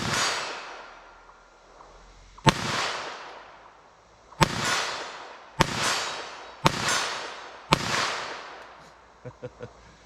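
Five sharp .22 LR rimfire gunshots crack out at a target, spaced about a second or two apart, each with a quick decaying echo, followed by a few faint small knocks.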